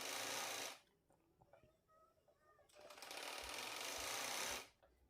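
A sewing machine stitches a lehenga, running in two loud, steady bursts separated by a quieter pause with faint handling noise; no one speaks over it.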